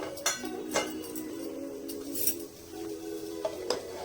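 Ghee spooned into a large bowl while making vegetarian biryani, heard as a few sharp metallic clinks and scrapes of a spoon against the bowl, spaced irregularly over a steady low kitchen hum.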